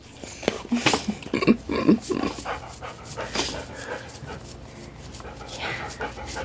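A 9-year-old dog panting close up with soft whimpers, bursts of breathy panting early then quieter, with a voice talking over it.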